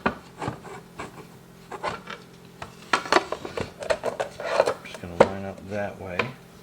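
A wooden board for a modern nightstand with drawer and charging station slides and rubs into place during assembly, with scraping friction, knocks and taps, and brief talk near the end.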